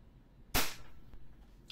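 A single sharp, loud crack from an EMG TTI Sand Viper airsoft pistol firing metal BBs, close by and brief, followed by quiet room noise and a faint later click.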